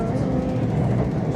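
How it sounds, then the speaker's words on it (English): A passing train rumbles in a low, rolling roar, close and fairly loud, with no voices over it. "Oh, that was a train."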